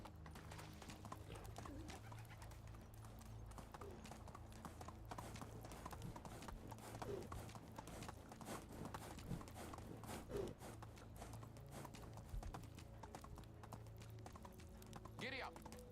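Horse hooves gallop in the Medieval Dynasty video game, a quiet, steady clip-clop rhythm running throughout with occasional faint voices.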